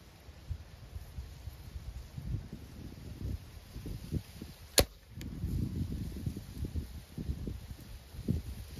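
A crossbow arrow tipped with a Magnus Black Hornet broadhead is shot outdoors at a 40-yard target, giving one sharp crack against steady wind and rustling background.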